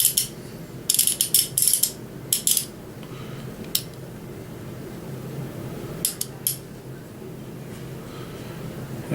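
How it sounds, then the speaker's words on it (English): A Home Depot clamp ratcheted down tight while making a knife: several short clusters of sharp metallic clicks over a low steady room hum, no voices. "And we will clamp this down."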